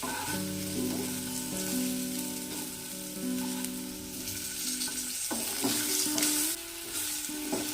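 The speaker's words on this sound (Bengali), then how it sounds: "আলুগুলো ভাজা হয়ে এসেছে" Potatoes fry in hot oil in a pan, giving a continuous close sizzle with occasional stirring scrapes and a faint steady kitchen hum, and no talk.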